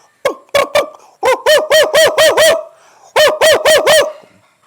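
A voice imitates the call of the pullathi bird, a hill-country bird, with a run of sharp, rhythmic hooting cries in three bursts separated by short gaps, loud and close against a quiet background.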